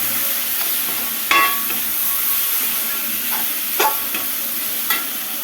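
Tomato mixture with fried soya balls stirred in a hot frying pan, a dense steady sizzle under occasional scraping strokes of the spoon, loud and close, with no talk.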